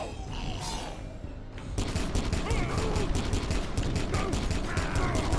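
Dense gunfire bursts in the video game Warhammer Kill Team, loud and continuous with overlapping shots and mechanical clatter, intensifying after the opening moments.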